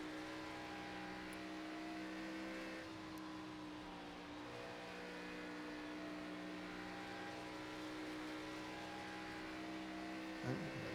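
A NASCAR Xfinity race car in iRacing drones at partial throttle with a steady, sustained engine hum at moderate volume, and a brief blip rises near the end.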